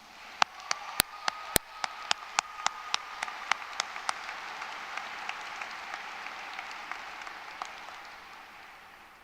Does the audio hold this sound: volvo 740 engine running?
no